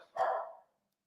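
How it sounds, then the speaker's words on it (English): A single dog bark rings out close and loud, a short sharp burst that fades quickly into silence with nothing else around it. "we got the dog barking"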